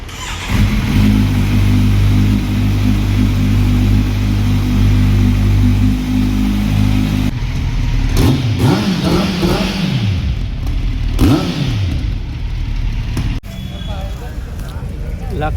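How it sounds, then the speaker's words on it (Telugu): A sports bike engine hums and revs steadily while riding in the rain, with a droning tone through the first half and people talking over road noise afterward. "Maaza sports bike"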